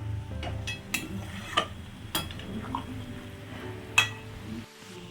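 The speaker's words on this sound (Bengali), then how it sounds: "চিকেনটি আমরা ভালোভাবে নাড়াচাড়া করে নিলাম" Chicken simmering in milk in a pan is stirred, giving soft scraping and a few sharp clinks of a utensil against the pan over a quiet low hum.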